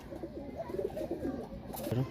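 Low, soft cooing of a Teddy pigeon in Lahore repeats close by, a murmuring throaty call over faint background noise.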